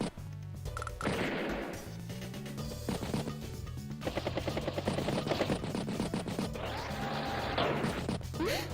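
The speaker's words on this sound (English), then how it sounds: "Recon reconnoiters that infantry's face with bullets." A recon unit fires bullets at infantry in Advance Wars, rapid bursts of small-arms gunfire with sharp impact thwacks and crunches, loud and close over game effects, with no talking.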